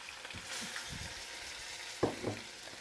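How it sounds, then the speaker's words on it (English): Cicadas deep frying in a pan of hot oil, a soft, steady sizzle with crackling pops, and a sharper burst of bubbling near the end. "So we are deep oil frying them."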